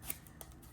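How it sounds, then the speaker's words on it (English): A Yugioh trading card deck being shuffled by hand, a short soft riffle of cards with a couple of brief flicks, close and fairly quiet. "now we're gonna do the other half of the deck, shuffling the deck up."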